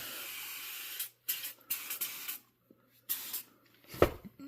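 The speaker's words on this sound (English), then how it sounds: "First, I like to spray it down with some brake cleaner." Brake cleaner hisses from an aerosol can in several short bursts onto a car wheel and brake assembly of a 1998 Pontiac Trans Sport/Montana, with a faint mechanical knock near the end.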